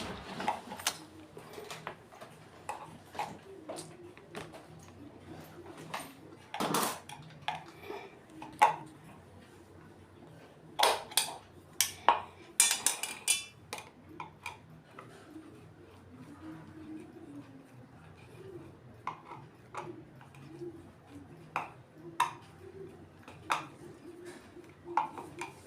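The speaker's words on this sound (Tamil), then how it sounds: "இந்த 3 ஸ்க்ரூவையும் நல்லா ஃபுல் டைட் பண்ணிக்கணும்." Screws being tightened on a mixie jar while fitting a new bush, heard as scattered sharp metallic clicks and taps, some louder than others, spread across a quiet workbench.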